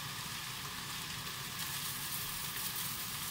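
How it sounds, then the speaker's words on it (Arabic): Eggplant frying in hot oil, a soft continuous sizzle and crackle heard close but fairly quiet, steady throughout with no talking. "ومستمرة دا أقلي الباذنجان"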